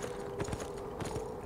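Horse hooves clip-clop in the video game Beyond Two Souls, a steady run of close, moderately loud hoofbeats over a constant low in-game hum.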